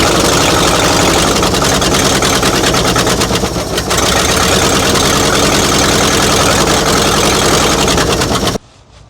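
A Ford F600 dump truck engine runs loud and rough with a dense, rattling idle, heard close for several seconds before cutting off abruptly near the end.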